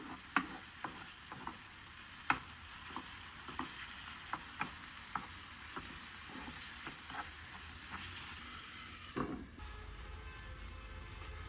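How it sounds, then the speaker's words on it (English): A garlic and mushroom mixture for a fish sauce simmers over low heat with a faint, soft sizzle, punctuated by regular light taps and scrapes of stirring, quiet and close. "Let everything cook slowly over low heat."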